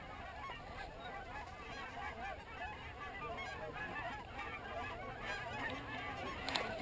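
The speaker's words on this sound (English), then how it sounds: "Yeah, geese behind." A flock of geese honks continuously overhead during an Oklahoma goose and duck hunt, a dense, steady chorus of overlapping calls that holds at fairly even loudness throughout.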